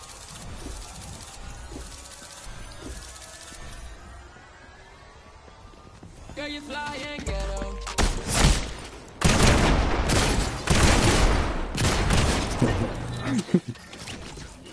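Fortnite zero-build duos match with gunfire erupting in loud, rapid volleys after a quieter stretch of game ambience, close and repeated bursts crackling through the second half.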